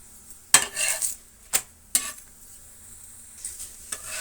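A chapati cooks on a hot pan, turned and pressed so it fries on both sides and puffs up, giving a few sharp scraping clicks and soft sizzling bursts, with no one talking.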